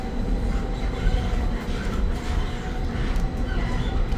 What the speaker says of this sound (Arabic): الترام الصفراء بتطلع من فيكتوريا وسان ستيفانو.